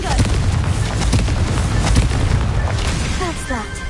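Confringo explosive spell blast in a video game, a loud, dense booming burst that fills the clip, with a speaking voice cutting in over it near the end.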